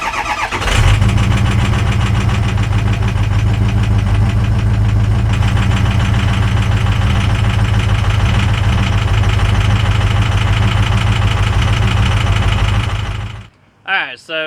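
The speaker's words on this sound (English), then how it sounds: "in this video you can really hear how much friction is within this engine" A cold Ford 6.0 V8 diesel engine cranks and starts, then runs loudly and steadily with a rough, knocking clatter from internal friction before cutting off abruptly near the end.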